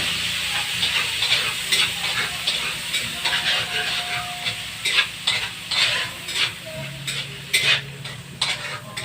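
Corned beef frying in a pan, a steady close sizzle and hiss broken by repeated scraping and clinking of a utensil stirring against the metal.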